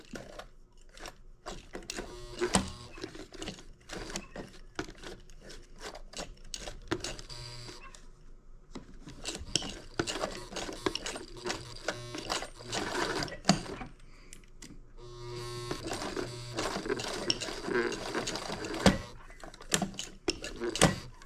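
A sewing machine with an extra heavy duty needle stitches slowly through thick material for a small purse, running in short mechanical bursts broken by pauses, with faint voices at times.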